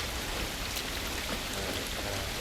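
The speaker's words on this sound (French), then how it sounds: "Cette pluie ne va pas nous aider." Steady, dense rain hisses and patters evenly throughout in The Last of Us, a constant wash of droplets with no voices.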